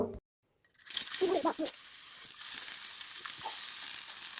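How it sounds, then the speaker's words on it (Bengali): Small brinjals sizzle and crackle as they fry in mustard oil in a kadai, the hiss starting abruptly after a brief silence and holding steady and close, with a few stirring knocks early on. "এখন একটা কড়াই দিয়ে এতে সরিষার তেল দিয়ে দিব। এখন আমি বেগুন ভাজি করে নিব।"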